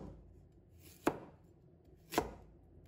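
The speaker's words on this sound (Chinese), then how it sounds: "再准备1条胡萝卜，把它切成小块。" A knife cuts a carrot into small pieces on a board, two sharp isolated chops about a second apart in an otherwise quiet kitchen.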